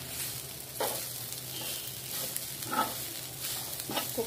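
Oats omelette made with three eggs sizzling steadily in a hot pan, a soft continuous frying crackle with a few brief scraping stirs, close and moderately quiet, no voices.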